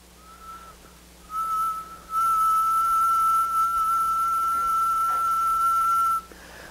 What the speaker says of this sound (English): if I whistle, which I guess about 1 kilohertz